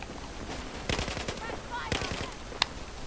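Bursts of rapid automatic gunfire from the video game Battlefield 4 come in two clusters of sharp cracks, followed by a single loud shot near the end, over faint background game noise.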